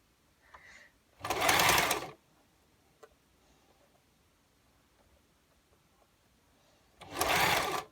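A sewing machine stitches scrunched-up fabric for a gypsy skirt, two loud steady whirring bursts of about a second each separated by quiet, heard close with no talk.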